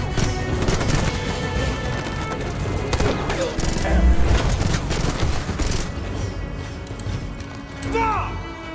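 Gunfire from government robot soldiers attacking rebels in a sci-fi film scene, a dense loud barrage of shots and booms mixed with music and effects throughout.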